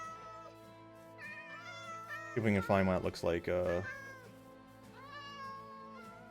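A Minecraft cat meows in a video game, a short series of clear, fairly loud meows in the middle of the stretch, with a player talking over the game sounds before and after.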